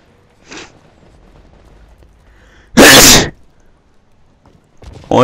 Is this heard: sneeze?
yes